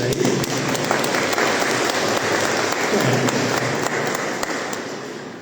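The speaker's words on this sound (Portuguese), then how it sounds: "Está sem boleto, uma salva de palmas, né, gente?" A church congregation at Sunday Mass breaks into loud, dense applause that holds steady, then gently fades toward the end.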